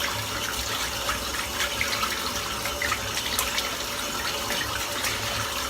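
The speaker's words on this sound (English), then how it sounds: "Just give the brush a rinse out while this is drying in." Tap water runs in a steady, moderately quiet stream while a shaving brush is rinsed beneath it, with small splashes and gurgles breaking the flow.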